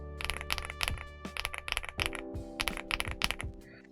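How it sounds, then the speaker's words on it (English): Up-close keystrokes on a mechanical keyboard with Sunny Side Up Frankenswitches, a Gateron-based switch, giving rapid, well-defined clacks in uneven runs and no talking. "And this is the sunny side up."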